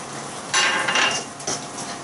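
Spices are stirred into a bean and cauliflower curry in a pot, a spoon scraping and clinking against the pan in two short bursts over a faint cooking hiss.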